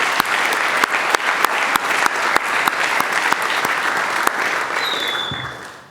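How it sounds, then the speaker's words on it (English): Steady applause from an audience at an evening rock talk, dense clapping with a few sharp, louder claps standing out, fading away toward the end. "If we get a round of applause just for the help"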